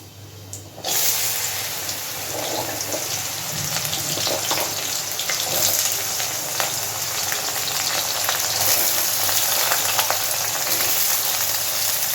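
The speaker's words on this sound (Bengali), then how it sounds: "ছোট ছোট করে কেটে নেওয়া আলু পটলটা এবার তেলের মধ্যে দিয়ে দেবো" Small-cut potato and pointed gourd pieces hit hot oil with a sudden loud sizzle, then keep frying steadily with crackling bubbles and occasional stirring scrapes.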